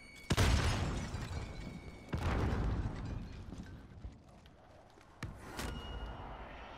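Several heavy booms and bursts ring out in Call of Duty: Warzone, a grenade blast with loud, close detonations followed by rumbling decay and further sharp hits.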